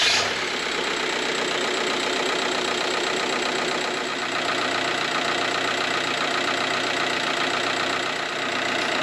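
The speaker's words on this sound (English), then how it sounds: "I just want to turn on the engine" A TDI diesel engine swapped into a Jeep TJ Wrangler idles steadily nearby, a constant loud clattering diesel knock with a dense, even rhythm and no voices.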